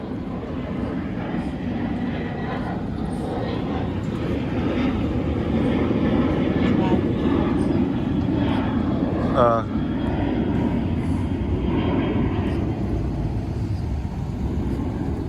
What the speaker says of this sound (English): there's a plane going into the fog there. It just left Lindbergh Field, San Diego International Airport.